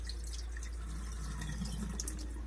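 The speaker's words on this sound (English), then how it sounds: "now it's time to wash the rice" Water splashing and dripping in a bowl as rice is rinsed by hand, a steady soft sloshing with faint trickles, close and continuous with no talk.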